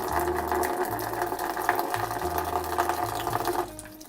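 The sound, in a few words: water draining from a watercooled PC loop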